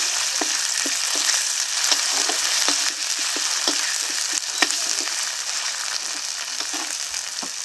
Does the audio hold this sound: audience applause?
no